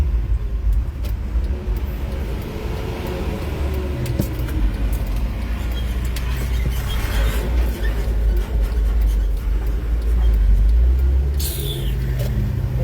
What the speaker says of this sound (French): Je vais tourner la voiture parce que je voudrais acheter...